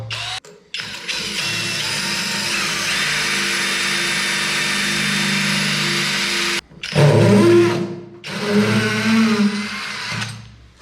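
A power drill with a new bit whines steadily for several seconds while drilling holes in tiles, stops, then starts again in a rougher, louder burst that grinds and cuts off, close by.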